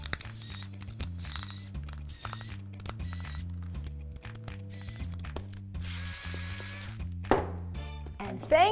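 A small screwdriver backs screws out of a Brymen BM785/BM789 multimeter case, giving quiet repeated ratcheting clicks in a steady rhythm, close up, with a few sharper plastic knocks toward the end.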